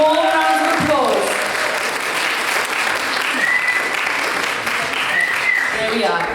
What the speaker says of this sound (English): More rounds of applause.